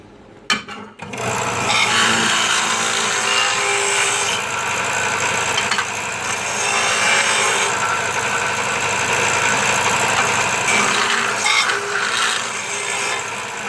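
Metal edges ground on a round abrasive wheel of 80 to 100 grit in a workshop, a loud continuous whirring grind that starts after a brief thump and holds steady throughout.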